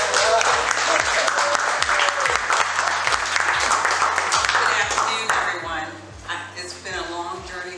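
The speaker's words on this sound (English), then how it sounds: "A round of applause." Loud, dense audience applause fills a book event in San Francisco, steady for several seconds before thinning out toward the end, with some voices mixed in.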